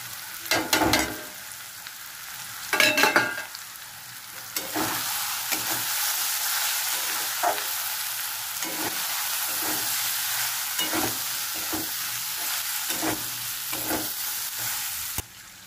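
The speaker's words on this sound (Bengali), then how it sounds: "এবার আমি মশলাগুলো দিয়ে দেবো" Spices sizzle in hot oil in a pan for a steady stretch, while a spoon scrapes and stirs rhythmically with repeated clacks throughout.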